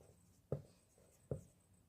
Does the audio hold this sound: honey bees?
no